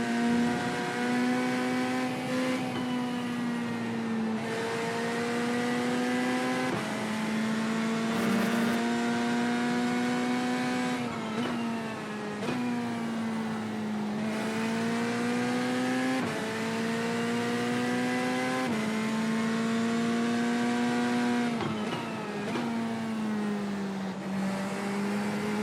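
Race cars circle the track at Watkins Glen, a Porsche among them, their engines droning close and loud with rising and falling revs as gears shift, several surges over nearly half a minute with no talk.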